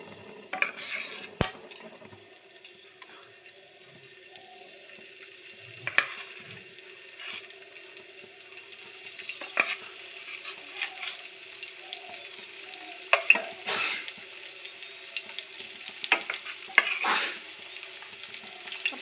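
Vegetable pieces fry in hot oil in a large wok, with a steady sizzle, stirring and scattered clinks of a metal utensil against the pan.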